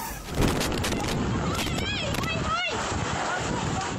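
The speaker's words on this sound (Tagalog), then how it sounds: "rinig ang malabuhawing lakas ng hangin dala ng Bagyong Tino" Strong typhoon wind from Typhoon Tino roars steadily in El Nido, Palawan, a loud continuous rush and buffeting against the microphone with brief higher whistles.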